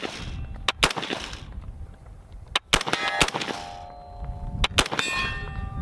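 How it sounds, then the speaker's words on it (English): AR-15 rifle shots strike an array of steel targets outdoors, each sharp crack followed by a ringing metallic clang, fired in quick pairs and singles across a few seconds, with tones lingering between hits. "observing the shooter engaging an array of steel targets"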